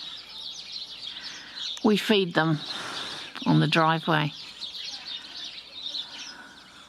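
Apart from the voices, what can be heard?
house sparrows chirping in a tree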